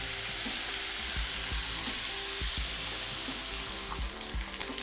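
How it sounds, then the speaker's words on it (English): Food searing in a pan after a good pinch of salt, left untouched: a steady, loud sizzle with faint crackles and a few low knocks, no voices. "Just let it sear."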